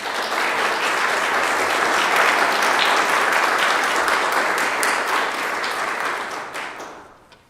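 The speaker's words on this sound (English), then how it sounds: "Let's give Lauren a round of applause." Round of applause for Lauren at a Knightdale town council meeting, sustained clapping from the audience holding steady for several seconds, then fading out.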